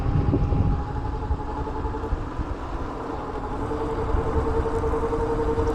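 A Caroma electric scooter picks up speed in third gear, giving a steady motor whine with tonal hums under continuous road and wind rumble, close and moderately loud throughout with no talking.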